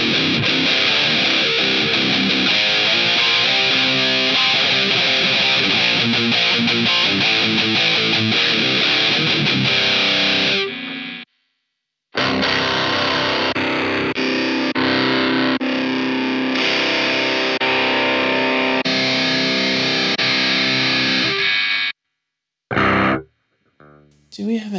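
Electric guitar played through NUX MG-30 amp models with heavy distortion, loud sustained chords and riffs that cut out abruptly in brief silent gaps near the end.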